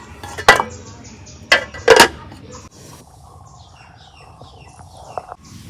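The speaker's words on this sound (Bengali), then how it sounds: "এখন কড়াই বহাই দিই" A few sharp metallic clanks of a wok being set down and shifted on a stove, followed by quieter scraping and faint chirps in the background.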